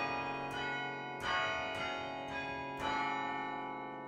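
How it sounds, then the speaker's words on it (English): Tower chimes ring out from a bell tower, four struck bell notes spaced about a second apart, each leaving a long resonant ringing tail, clear and alone with no voices. "first you have to be able to play the chimes"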